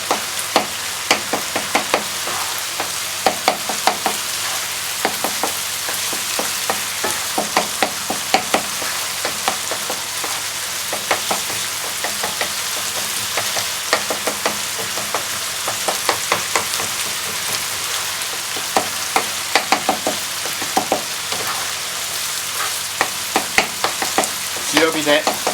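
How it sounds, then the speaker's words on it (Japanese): Ground meat for Japanese-style mapo tofu sizzles and fries steadily in a pan while clumps are stirred and broken up, with frequent close scraping clicks and taps over the continuous hiss. "ダマになってる肉を潰していってください。"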